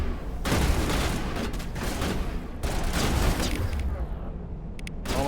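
Dense, continuous gunfire from enemies in the video game Mass Effect 1, sustained rattling bursts and booms with a few short breaks, loud and close.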